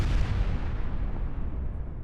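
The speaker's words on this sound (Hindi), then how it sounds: "72 घंटों से तेल अवीव में नॉन स्टॉप धमाके" Explosions from missile attacks on Tel Aviv in wartime news footage, heard as a loud, continuous barrage of deep rumbling booms and bursts with no speech.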